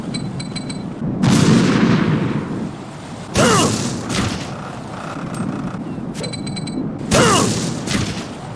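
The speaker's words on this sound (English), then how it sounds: "After pulling the pin, you have about 5 seconds before the grenade explodes." Grenade explosions in Metal Gear Solid 2, three loud sharp blasts spaced a few seconds apart, each followed by a decaying rumble, with small metallic clicks and beeps between them.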